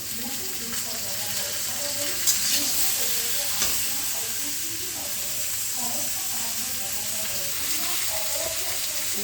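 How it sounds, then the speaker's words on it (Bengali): Potatoes and pointed gourd frying with fenugreek seeds sizzle and hiss steadily in a pan, with faint stirring clinks and a few sharper crackles throughout. "আমি তা না করে আলু পটলের সঙ্গে মেথি ফোড়ন দিয়ে ভেজে নিলাম।"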